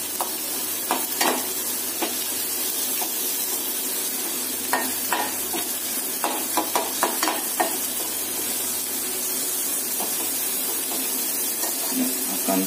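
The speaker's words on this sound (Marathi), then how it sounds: "कांदा आपण व्यवस्थित भाजून घेऊया। थोडासा हलकासा लाल व्हायला द्यायचा आहे कांदा।" Onion frying in a pan for a dried prawn dish, a steady close sizzle with scattered stirring clinks and scrapes throughout, no voices.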